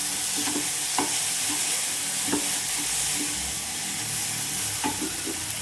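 Noodles stir-fried with masala powder in a pan give a steady loud sizzle throughout, with repeated scraping and clacking strokes of the spatula at irregular intervals.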